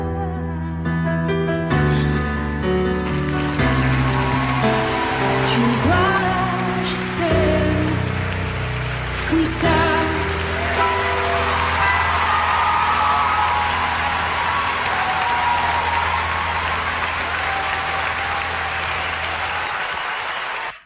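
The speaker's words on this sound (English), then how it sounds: "well-deserved flowers and applause" A concert audience applauds after a live performance, a dense, sustained clapping that rises as the last piano and vocal notes fade and carries on for the remaining seconds.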